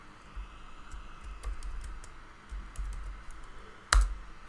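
Python code being typed on a computer keyboard: a steady run of soft, quick key clicks at close range with a louder clack near the end, no talking.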